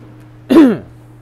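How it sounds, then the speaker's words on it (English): A single short, throaty cough or throat-clear from a man walking a city street live, close and fairly loud over a low steady hum, lasting about a quarter second. "Sorry for the cough"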